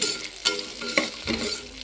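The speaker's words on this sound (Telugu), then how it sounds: "పొడుగ్గా కట్ చేసి పెట్టుకున్న ఆనియన్స్ కూడా వేసుకొని ఫ్రై చేసుకోవాలి" Sliced onions fry in a pan with bay leaf and green peas for a vegetable rice, a steady sizzle broken by a few scraping stirs of a spoon.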